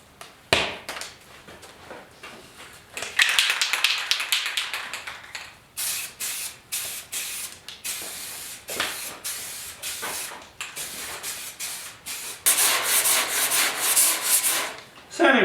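Primer on the hood of a 1956 Ford pickup being sanded with 150-grit paper: close, steady rasping strokes in uneven bursts, pausing briefly between passes, with no talking.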